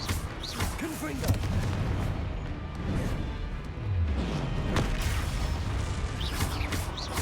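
Confringo spell blasts in a video game: crackling, booming impacts and mechanical clatter in a busy, continuous mix, with a voice calling out now and then.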